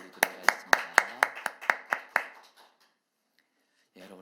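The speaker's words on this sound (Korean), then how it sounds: "우리 함께 하시는 왕이시 주님께 우리 감사 영광의 박수 올리도록 하겠습니다." Congregation clapping in rhythm during a Korean Sunday church service, about ten sharp even claps in steady time, then silence before a voice begins.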